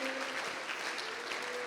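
A church congregation applauding during a worship service, a brief, even wash of clapping from many hands, fairly faint and distant, with a faint tonal hum beneath.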